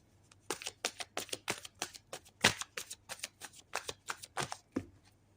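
Tarot cards are shuffled in a steady run of quick, crisp riffling snaps, close and quiet, repeating about every third of a second with no voices.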